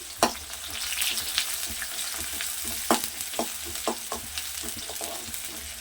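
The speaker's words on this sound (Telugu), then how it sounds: "ఆయిల్ హీట్ అయిన తర్వాత కట్ చేసిన ఆనియన్స్ ఇందులో వేద్దాము. కలుపుదామండి." Chopped onions sizzling in about three tablespoons of hot oil while being stirred, steady frying hiss punctuated by several sharp spatula knocks and scrapes against the pan, close and clear.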